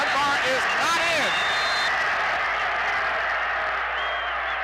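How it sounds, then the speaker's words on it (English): Stands full on both sides at a college football game between the Bethel Bruins and Hampton Crabbers, giving a loud, steady crowd roar that swells near the goal line, with a voice briefly talking over the start. "Oh, I love it when the crowd roars, both sides are full"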